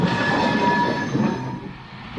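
A train rushes past close by, a loud continuous roar of rolling wheels with a high metallic squeal threaded through it that fades slightly toward the end.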